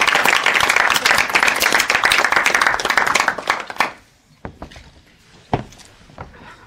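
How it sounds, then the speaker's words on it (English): Board meeting attendees clap in a burst of dense, close applause that stops abruptly after about four seconds, leaving a quiet room with a few scattered thumps and shuffles. "Let's clap for it."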